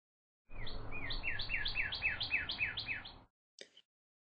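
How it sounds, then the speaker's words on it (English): A bird chirping alone: a rapid series of about nine bright, repeated tweets in a steady rhythm over about three seconds, then one short final chirp, clear and close. "What sound does a bird make?"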